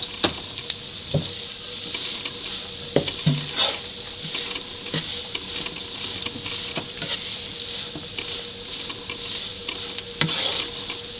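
Kerala-style beef cutlet filling is stirred in a hot pan, with spatula scrapes and knocks landing irregularly over a constant close sizzle and no talking.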